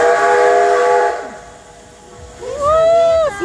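Steam locomotive whistle on a Santa Claus train in Perm, a loud sustained harmonic blast for about a second, then a quieter gap and a second rising whistle toward the end.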